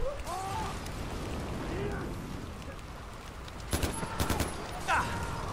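Explosions in Far Cry 4, a few sharp bursts of blasts and crackling gunfire-like bangs later on, set against a low rumbling game background with voices talking.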